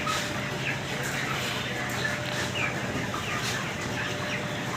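Chickens at a 28-day-old poultry farm, a steady, dense bed of clucking and calls from many birds close by, continuous throughout with no voices.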